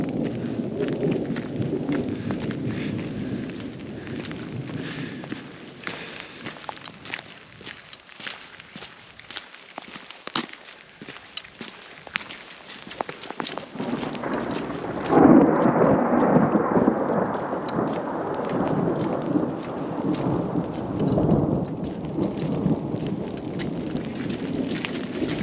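Heavy rain pours through a forest during a thunderstorm in Great Basin National Park, with deep thunder rumbling and a louder surge of downpour midway, steady and close throughout.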